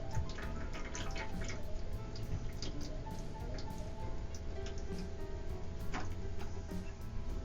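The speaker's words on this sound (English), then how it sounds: "I got my can of black beans here. I'm going to go ahead and drain them." Liquid drains from an opened can of black beans, a steady close trickle and patter of water running out without pause, with no talking.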